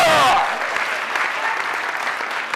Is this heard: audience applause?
yes